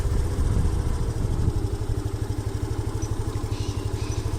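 A scooter engine runs on its double stand with the throttle held open, giving a loud, steady, rapid mechanical putter that continues evenly throughout with no talk.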